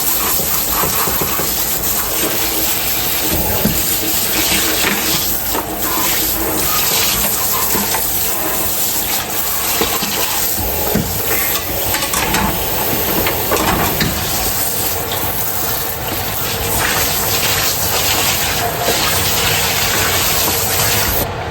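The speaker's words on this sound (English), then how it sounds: "I'm just rinsing everything out." Kitchen tap running hard as items are rinsed out beneath it, a loud continuous hiss of water with shifting splashes and clatters, no speech over it.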